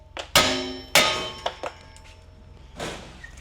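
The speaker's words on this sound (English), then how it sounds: "you're gonna grab a sledgehammer, and you're gonna want to hit it" A sledgehammer strikes a car's steering knuckle to free the tie rod, two loud metallic clangs followed by lighter taps and a final duller hit, close and echoing in a workshop.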